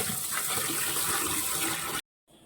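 Cauliflower florets rinsed in plain water, a steady rushing pour of tap water running for about two seconds before cutting off abruptly, followed by a faint lower wash.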